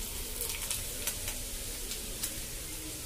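Dry potato and ginger paste stuffing for bread frying in a pan, a steady soft sizzle with faint crackles and light stirring scrapes, moderately quiet and with no talk.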